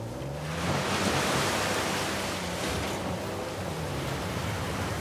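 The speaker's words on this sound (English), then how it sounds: "A secret cave behind a waterfall." A waterfall roars in the video game Uncharted 4, its steady, dense rushing wash filling the whole clip at an even, loud level with no break.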